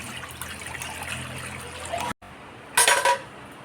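Water is poured into a wok for cooking bottle gourd, a short splashing, hissing burst lasting about half a second after a stretch of quiet kitchen background.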